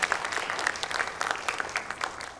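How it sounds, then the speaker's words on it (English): Applause from an audience at a Ranga Pravesh dance debut performance, steady and moderately loud clapping throughout, with individual claps standing out. "Please give them a big round of applause"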